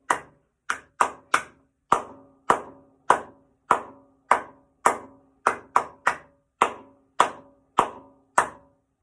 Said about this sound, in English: So we're just going to clap, no singing.